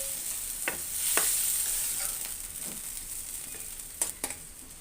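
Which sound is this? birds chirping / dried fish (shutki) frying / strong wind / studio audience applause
dried fish (shutki) frying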